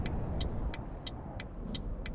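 Road traffic in Euro Truck Simulator 2, a steady low rumble of engines with a regular ticking like a turn indicator clicking about twice a second.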